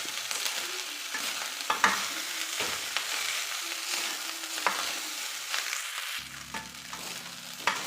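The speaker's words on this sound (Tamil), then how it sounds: "சாதம் வடித்த சாதம் சேர்த்திக்கலாம் நல்லா கிளறிக்கலாம்" Cooked rice being stirred through in a pan for coconut rice, a steady scraping and stirring with light sizzle throughout, close and fairly loud, with no talking.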